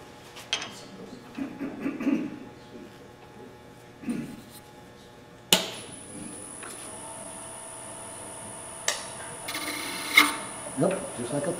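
A wood gouge on a lathe cuts a wooden bell Christmas ornament, giving quiet, intermittent scraping and rasping bursts with a faint high whine in the second half.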